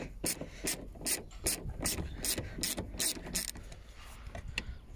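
A ratchet with a 10 mm socket turning out the screws of a car's broken side mirror on a Citroën C1, Toyota Aygo or Peugeot 107, giving close, repeated bursts of quick clicking, with no talk.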